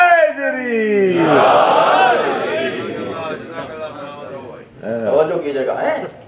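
A congregation at a Muharram majlis in New Jersey roars back a loud, massed chant that swells into a dense wall of voices, then subsides before a second surge near the end.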